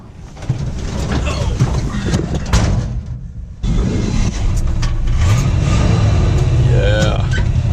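A student-built 1963 Chevy C10 pickup rumbles steadily while driving, its engine a continuous mid-low drone with a brief dip then louder revving, and people talking over it inside the cab.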